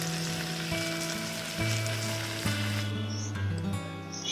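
Chicken white karahi cooks in a pan over a medium flame, giving a continuous close sizzle and hiss with a low, steady hum beneath, fading slightly toward the end, with no talking.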